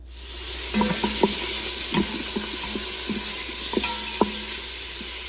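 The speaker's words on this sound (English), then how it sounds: "We're gonna saute this bacon, onions, and garlic." Bacon with onions and garlic sautéing in a pan, giving a steady sizzle throughout with scattered small pops and scraping clicks as it is stirred.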